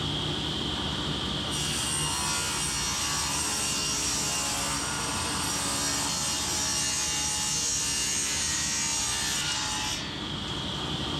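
A wooden board is cut to 3-inch width on a saw against a fence, a steady rasping blade-through-wood sound for about eight seconds, close and loud, then the cut ends as the motor keeps humming.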